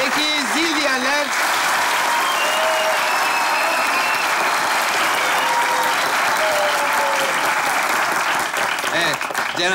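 A studio audience on a Turkish New Year's game show breaks into continuous, lively applause. Whoops and a voice rise over the clapping near the start and again toward the end.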